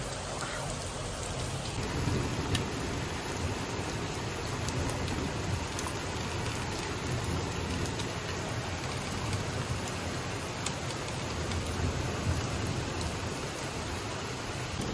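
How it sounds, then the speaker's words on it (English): Heavy rain pours down steadily, a dense continuous wash of drops with no let-up and no voices. "It's a ton of rain."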